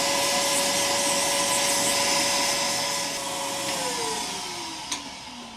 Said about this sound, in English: One last vacuuming.